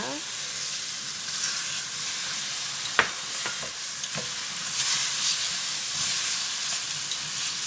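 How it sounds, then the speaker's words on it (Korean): Tomato and egg stir-fried with garlic in a pan give a steady, close sizzle and hiss, broken by sharp scrapes and clacks of stirring. "마늘 넣고 마늘 넣고 볶다 보면은 금방 익습니다"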